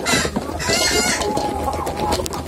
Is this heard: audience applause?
no